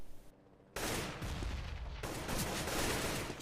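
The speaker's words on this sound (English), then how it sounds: "Headshot from Zanzir." Gunfire rings out in a competitive Counter-Strike-style match between LDLC White and CPLAY, a sustained loud burst of shots starting abruptly after a brief quieter moment and continuing densely to the end.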